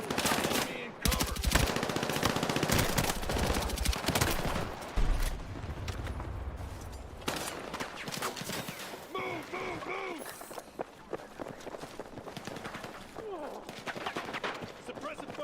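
Battlefield 6 firefight: sustained machine-gun and rifle fire in loud, overlapping bursts alongside shouted squad callouts and game voice lines, with heavy bursts early and a busier mix of shots and chatter later.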